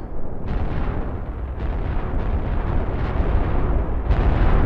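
Nuclear bomb blast hitting a planet in a simulation game: a sustained, roaring explosion rumble with repeated booming surges on top, loud and dense throughout with no let-up.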